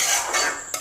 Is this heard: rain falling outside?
no